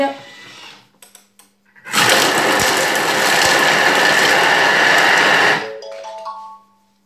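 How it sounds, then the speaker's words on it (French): A kitchen robot with its lid and measuring cup in place blends broth ingredients in one loud, steady whirring burst of about four seconds, with a person speaking briefly before it starts and after it stops. "Et on va mixer 3 secondes. Attention les oreilles."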